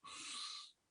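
Ujjayi breathing during a power yoga class: one steady, hissing breath through a narrowed throat, close and fairly loud for just under a second, then fading out.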